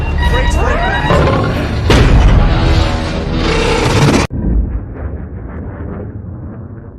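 A deep, rumbling boom from a submarine collision in a film soundtrack, heavy and sustained over music and effects, then cut off abruptly into a quieter low rumble.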